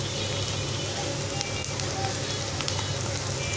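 Onions fry lightly in a pan for a Bengali pumpkin greens and shrimp dish, giving a steady, close, hissing sizzle that crackles evenly with no break and no speech.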